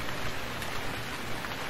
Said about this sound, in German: Und ich glaube, der Regen ist auch ganz schön laut.